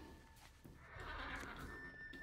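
A horse mount named Binky in World of Warcraft lets out a whinny that rises over steady game background noise, a moderately loud neigh lasting about a second.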